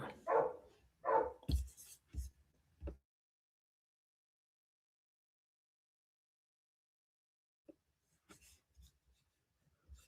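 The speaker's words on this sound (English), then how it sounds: "Yeah, I let my dogs in." Dogs give a few close barks in a short burst, then fall silent, with faint scattered sounds later on.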